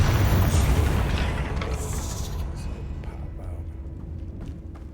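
A Confringo spell blasts in Hogwarts Legacy, a loud booming explosion that rolls out and decays over several seconds into a low rumbling tail.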